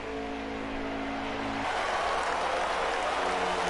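Steady, broad crowd roar at the Talladega tri-oval in the NASCAR Heat 5 racing game, a continuous wash of noise with a low engine drone under it during the first half.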